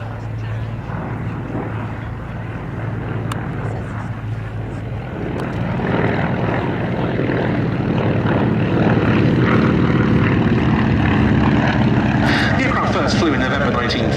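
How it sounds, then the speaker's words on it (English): Two Beech D17S biplanes fly past at an air show with a continuous propeller-engine drone that swells louder as they near, and an announcer talks over it throughout. "all of that was achieved on this aircraft, the Beech D17S, and here running in over the motorway,"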